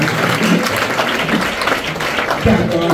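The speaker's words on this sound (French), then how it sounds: "Sous l'applaudissement du public." Audience applause at a church wedding ceremony, a dense, loud wash of clapping from a crowd with voices mixed in, continuing steadily throughout.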